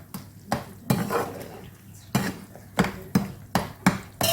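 A spoon stirs roasted moong dal in ghee in a pan for halwa, giving close, irregular clanks and scrapes against the metal, about nine distinct strokes.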